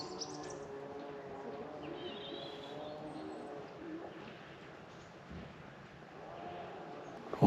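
Small birds chirp faintly in a calm village centre, scattered high tweets over a quiet outdoor background with no traffic passing.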